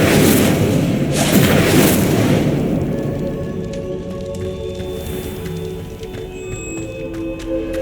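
Incendio fire spell cast in Hogwarts Legacy, a loud whooshing burst of flame with booming bursts in the first couple of seconds, fading to a lower rumbling crackle with tonal hum.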